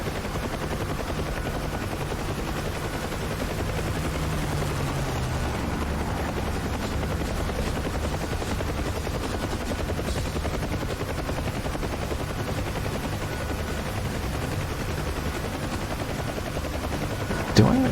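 A Ka-50 helicopter in a flight video game drones with dense, continuous rotor and engine noise, steady and loud throughout, with a short louder burst near the end.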